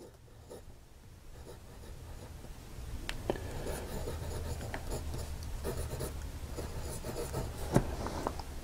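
A Wing Sung 6128 fountain pen with a generic nib scratches steadily across paper, a close, soft continuous scribbling with faint strokes and small taps, no voices over it.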